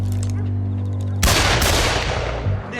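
A single loud gunshot cracks out suddenly in a tense standoff, cutting through a steady low hum, and its noisy blast decays over a couple of seconds.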